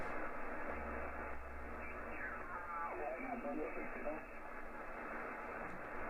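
Band noise on the lower bands of an HF radio receiver, a constant loud hiss and crackle with faint tuning whistles and a brief low hum, heard alone without talk.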